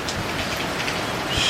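Hail pounding the ground in a heavy storm at Casino, New South Wales, Australia, a dense continuous clatter and hiss of ice striking surfaces, close and loud throughout.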